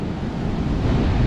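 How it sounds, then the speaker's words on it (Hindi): Strong waves crash and surge against rocks at Galgibaga beach in Goa, a loud, continuous roar of surf close by with wind buffeting the microphone and no talk. "लहरें गलगीबागा बीच पर, काफ़ी तेज़ लहरें।"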